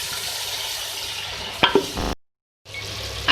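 Fenugreek and fresh carrots are stirred and cooked in a pan, giving a steady soft sizzle and scraping. A few sharp utensil knocks follow, then a brief silence, then the sizzling resumes.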